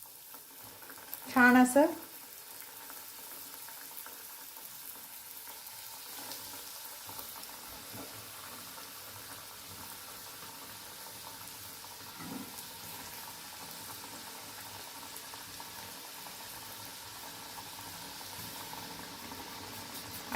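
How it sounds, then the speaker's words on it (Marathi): Snack pieces for Marathi farsan deep-frying in hot oil, with a steady, even sizzle and bubbling that runs throughout, and someone speaking briefly near the start. "हे छान गोल्डन कलर येस्तोवर मस्त फ्राय बनवायचे आपल्याला तेलामध्ये"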